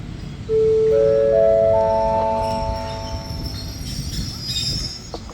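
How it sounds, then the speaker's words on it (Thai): An ordinary passenger train from Bangkok to Phitsanulok moves along platform two of a station in Thailand. A loud, steady rumble carries sustained squealing wheel tones that fade gradually as it rolls past. "ขบวนรถที่เคลื่อนในชานชลาที่สองเป็นขบวนรถธรรมดา"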